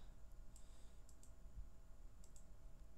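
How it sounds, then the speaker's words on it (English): Mouse clicks on Excel pivot table slicers: several light, quick clicks in pairs, close but faint, over a quiet low hum. "when I click on the slicers"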